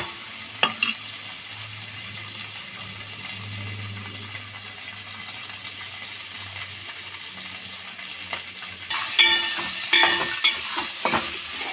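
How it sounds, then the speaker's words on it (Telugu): Peanuts and green chillies fry under a lid in a pan, giving a steady low sizzle. Near the end the sizzle turns louder and brighter with stirring clatter, and there are a few light knocks earlier. "వేయించుకుందాం మూత పెట్టి."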